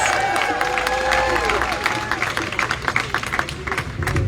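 A crowd at a reproductive rights march in Providence, Rhode Island applauds with steady, dense clapping, joined by a few whistles and cheers, fairly close and loud.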